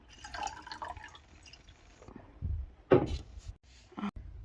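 Water poured into a container of yarn being readied for indigo dyeing, giving a soft trickle and splash, then a few louder knocks and clatters near the end, close by with no talking.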